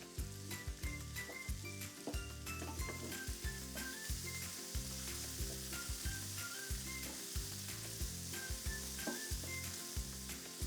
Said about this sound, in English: And just stir all of that together.